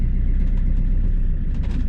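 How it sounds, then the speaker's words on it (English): A car being driven, a loud steady low rumble of engine and road noise heard from inside the vehicle, with no talking. "Going for a little drive to buy some wood."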